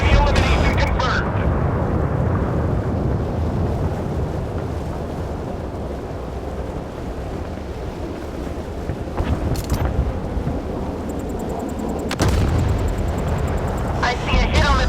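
Torpedo strikes and explosions on enemy warships in a naval combat game, a continuous low rumbling roar with broad noisy bursts, over wind-like background and a voice speaking.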